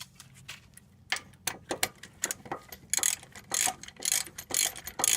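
A ratchet wrench clicks in quick bursts while snugging spindle bolts on the front disc brakes of an 8-lug Chevy/GMC K truck, the sharp metallic ticks coming close and loud in irregular runs.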